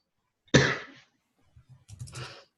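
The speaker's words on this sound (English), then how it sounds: "Coughing fit. Give me a sec." A person coughs hard in a short fit: one loud, harsh burst followed after a pause by a rougher cluster of coughs, close and alone.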